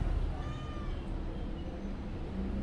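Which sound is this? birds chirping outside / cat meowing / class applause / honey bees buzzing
cat meowing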